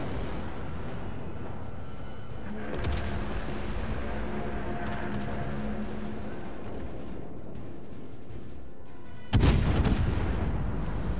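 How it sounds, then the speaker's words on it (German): Ship artillery salvos in World of Warships sound over a rumbling battle background, with a heavy boom near the start and a louder, sharper blast close by near the end. "Ich finde halt geil, wie schnell einfach die Schüsse von den Schiffen fliegen"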